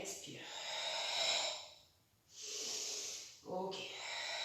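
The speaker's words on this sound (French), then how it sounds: "Inspire. Expire." Slow, deep breaths during a Pilates exercise, a long audible inhale followed by a long exhale and another inhale, close and breathy with no talking over them.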